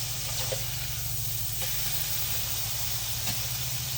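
A patty melt topped with onions sizzles loudly and steadily in a hot pan as it is flipped, a dense, even hiss running throughout with a low hum underneath.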